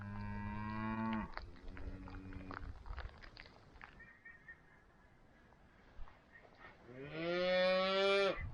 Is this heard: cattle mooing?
yes